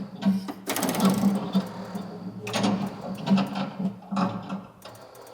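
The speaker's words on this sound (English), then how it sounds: "launch the ball hard with the plunger and then you'll get that shaker motor to go" A homemade shaker motor rattles a virtual pinball cabinet in bursts, a buzzing mechanical vibration that swells and fades several times over a few seconds alongside clacking game mechanisms.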